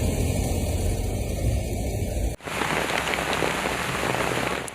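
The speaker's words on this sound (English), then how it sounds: "A severe storm hit southern Croatia this morning. Heavy rain fell in Dubrovnik-Neretva County" Heavy rain during a severe storm in southern Croatia, a dense, loud hiss of pouring rain that cuts abruptly midway to a second shot of similarly intense downpour, with a faint engine hum beneath and no talking.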